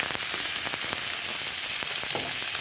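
Beef steak and onions sauté in a hot pan with a steady, dense, close sizzle and occasional crackles, unbroken for the whole stretch.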